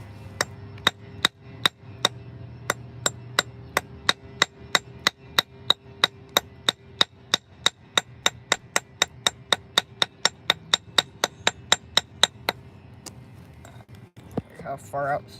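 Rapid, evenly spaced metallic hammer taps ring out dozens of times in a steady rhythm, then stop, followed by some faint handling noise.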